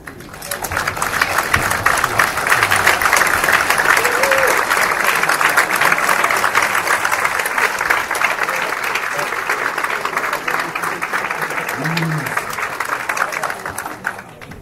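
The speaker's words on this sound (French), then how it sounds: "que nous nous levons pour applaudir pour notre peuple courageux et" Deputies and the public in a national assembly applaud while standing, a dense, sustained wash of clapping from many hands lasting about fourteen seconds with no speech over it.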